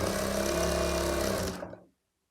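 A sewing machine runs steadily while stitching the folded sleeve end of a small baby short top, a continuous dense motor whir that holds for about a second and a half before stopping abruptly.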